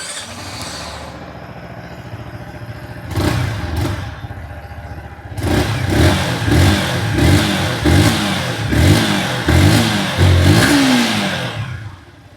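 A Yamaha XSR 155 motorcycle engine idles close by, then revs repeatedly in several loud rising bursts before settling back down.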